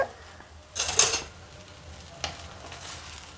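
Poha (avalakki) stir-fried in a pan for chitranna, giving soft scraping stirs with a couple of brief louder scrapes, heard alone at moderate volume with no voices.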